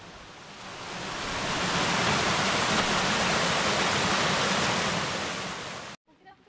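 Clear water of a mountain valley stream at Mungyeong Saejae in late autumn rushes in a dense, loud, continuous wash, then cuts off abruptly at the end.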